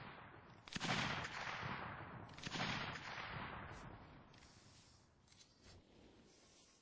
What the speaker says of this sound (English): Yeah, you got cannon fire that's going right over your head.